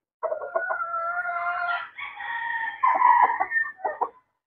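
A rooster in a breeding pen at a gamefowl farm crows loudly and close by in one long, multi-part call, with a few clucks at the end and no talk.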